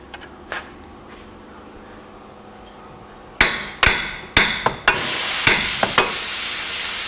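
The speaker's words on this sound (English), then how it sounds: "just take a little chisel and you can separate it just a little bit, kind of help out" A hammer drives a chisel into a rusted front-end part on a Nissan Cube, making four or five loud, close metallic strikes in quick succession, followed by a harsh, hissing scrape.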